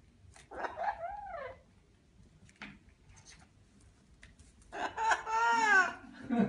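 A pet parrot lets out harsh, cackling bursts mimicking devilish laughter, one short fit near the start and a longer, louder burst at the end, with quiet pauses between.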